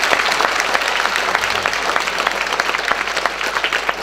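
Steady concert audience applause at a Russian folk song show, dense and even throughout, loud and close, a hall full of hands clapping without a pause.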